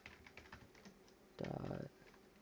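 Short burst of fast keystrokes on a computer keyboard, close and quiet, with a few scattered taps before a dense rapid run and no voices.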